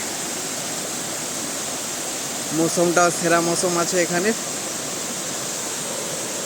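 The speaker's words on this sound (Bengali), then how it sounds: "ঝর্ণাটা অনেকটাই বড় আছে এখানে, তো আলাদাই লাগছে ঝর্ণাটা" A large waterfall at Ayodhya hill in Purulia gives off a continuous, loud rushing roar. Someone speaks briefly over the steady flow of water.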